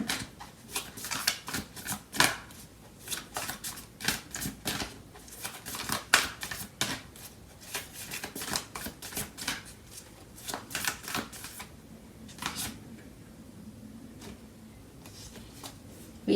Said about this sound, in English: So I'm going to clarify these cards.